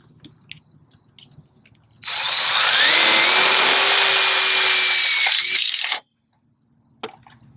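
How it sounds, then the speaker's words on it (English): A power drill drives a tech screw into a ridge pole joint in one loud, steady burst of about four seconds, its whine rising slightly in pitch, then stopping abruptly, with quiet surroundings before and after. "take one of our Tech screws, and we'll go ahead and put it through this juncture"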